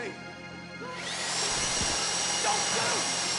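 During a heist in the video game GTA V, a power drill spins up after a quiet second and then grinds on steadily into a box, loud and continuous until the end.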